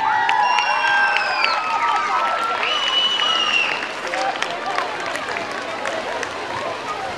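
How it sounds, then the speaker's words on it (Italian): Audience applause welcoming the Lama Skating group at a summer show, a steady wash of clapping with some cheering and whistles mixed with crowd voices, continuous and fairly loud throughout. "Accogliamoli quindi con un applauso la Lama Skating."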